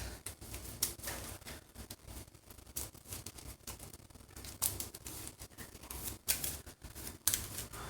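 A deck of cards is shuffled for a card game: soft, quiet riffling and sliding sounds with a few crisp snaps, near and faint, over about eight seconds with no talk.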